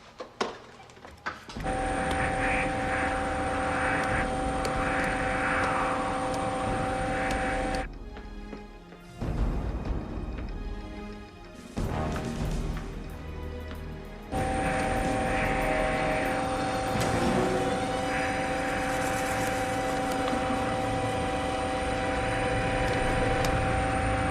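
A helicopter in an action movie roars with a loud, steady engine and rotor drone that breaks off briefly, returns rougher, then settles into a continuous close hum to the end.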